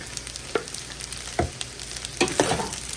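Beef fried rice fries loudly in oil, a dense close sizzle broken by a few sharp scrapes and knocks as the pan is stirred and tossed.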